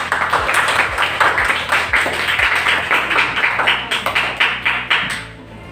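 Classmates clapping in a classroom, a loud, steady round of hand claps from a group that continues for several seconds before thinning out.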